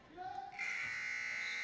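A loud, sustained electronic buzzer marks the end of the first quarter in a women's varsity high school basketball game, a steady harsh tone running over a second after gym noise and voices.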